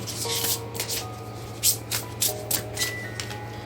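Tarot cards are shuffled by hand in quick, riffling bursts of papery flicks and slaps, close and fairly loud, with faint background tones and no talking.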